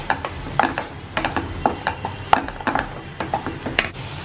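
A spoon stirs turmeric and coriander powder in a pan, giving a steady run of short scraping, clicking strokes about every quarter second, close and fairly loud, with a faint sizzle beneath and no voices.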